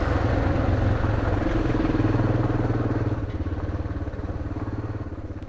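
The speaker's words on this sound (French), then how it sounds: "on commençait un peu à s'amuser avec la moto, à accélérer un peu" Motorcycle on a high mountain road in Morocco accelerating, a loud close engine with dense rhythmic firing pulses that holds steady and then eases slightly, with no speech.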